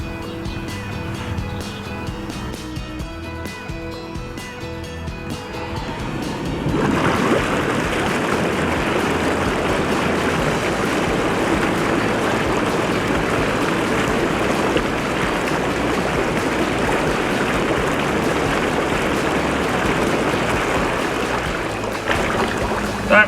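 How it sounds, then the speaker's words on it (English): A Lay-Z-Spa hot tub starts its bubble jets partway through, a sudden, steady rush of churning, frothing water that replaces the quieter hum before it and keeps going to the end. "I'm going to turn on the bubbles just to mix that through"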